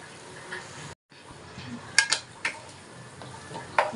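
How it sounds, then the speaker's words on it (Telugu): Veg noodles being stirred in a home kitchen pan, with scattered clinks and scrapes of a utensil against the metal over a soft sizzle, a few sharper knocks standing out; no voices. "మిక్స్ చేసుకుందాం మొత్తం."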